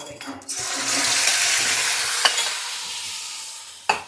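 Mustard seeds crackle and sizzle in hot oil in a home kitchen pan, a loud continuous frying hiss with a couple of sharp clinks of a utensil.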